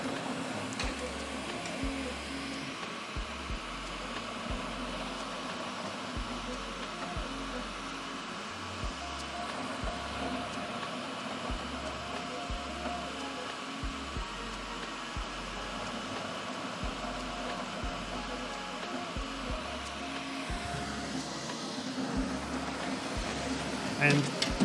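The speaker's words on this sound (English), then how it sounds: "there is this additional fan that's only in the carbon version of the printer." A Bambu Lab X1 Carbon 3D printer runs with its extra exhaust fan, a constant whooshing hum overlaid by rhythmic low motor pulses and whirs repeating every second or two while a person talks nearby throughout.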